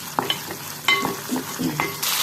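Onion stirred and sautéing in a hot pan, with scraping stir strokes over a steady sizzle, close and fairly loud, before tomatoes go in.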